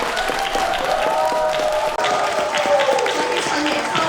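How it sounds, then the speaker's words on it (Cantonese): A church congregation claps for an elderly man at a baptism service: dense, sustained applause from many hands, loud and fairly close, with a voice speaking over it. "俾多啲掌聲佢"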